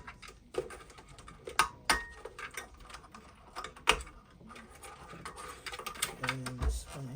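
A screwdriver backs out screws holding the power board of a Sony CRF-V21 radio, giving scattered close clicks, ticks and scraping ratchet-like bursts at uneven intervals, with no talking.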